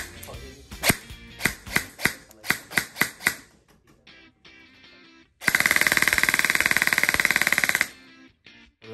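An airsoft gun fires a series of spaced single shots in semi-auto, then, after a short pause, a continuous sharp full-auto burst lasting a couple of seconds, close and loud.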